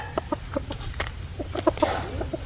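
A rooster clucks and makes short calls in quick, scattered bursts, close and moderately loud, with a faint low background hum.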